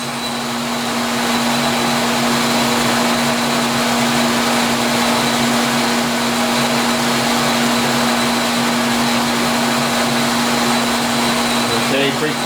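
A milling machine cuts the teeth of a pinion gear, giving a steady loud motor whine with a constant hum and broadband cutting noise that continues unchanged, close up.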